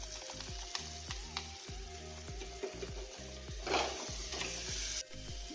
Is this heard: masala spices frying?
yes